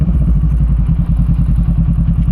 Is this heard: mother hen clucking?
no